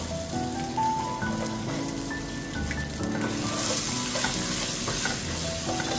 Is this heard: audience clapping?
no